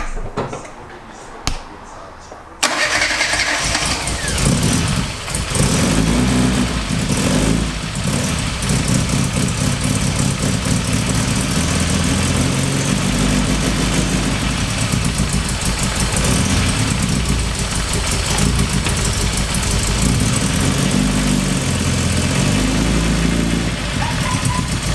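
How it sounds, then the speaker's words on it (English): A rebuilt Mini Cooper engine cranks and fires after a short quiet stretch, then settles into a loud, steady, slightly rough idle that runs on close by for the rest of the clip. "jump in, see if it starts"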